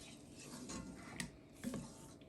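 A spoon stirs paneer butter masala in a pan, giving faint, soft scraping with a couple of light metallic clinks against the cookware over a low background.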